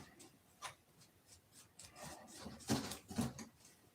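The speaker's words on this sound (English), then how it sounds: "we'll just whittle a stick, 1/8 inch square" Small wooden stick about 1/8 inch square being whittled with a blade, soft irregular scraping and rasping strokes in short bursts, close and fairly quiet, no voices.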